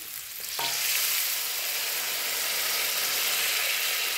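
Water goes into a pan of frying spiced fish curry, setting off a sudden loud hiss that settles into a dense, steady bubbling sizzle.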